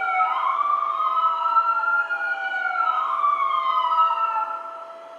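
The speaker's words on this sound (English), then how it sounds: "when you live in Philadelphia, you can't do anything about sirens going on" A police siren on a Philadelphia street wails in a rising and falling pattern, loud and close, holding steady before fading slightly at the end, with no voices heard.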